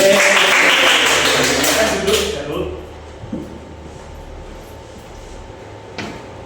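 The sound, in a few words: classroom applause after a student's correct answer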